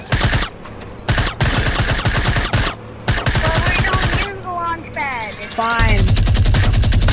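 A rapid, loud burst of minigun fire in a video game, with continuous staccato rattling running for several seconds and short pauses, then a whirring spin-down mixed with other game sounds while players talk over it.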